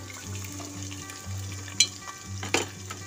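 Mashed mutton frying with ginger and garlic in a pan, a steady low sizzle with crackles and a few sharper clacks of a spoon against the pan, close and continuous.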